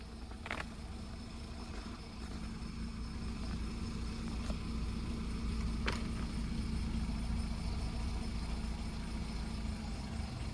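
A car engine idles steadily under a low, continuous rumble during a hill-start driving lesson, with a couple of faint clicks and no talking.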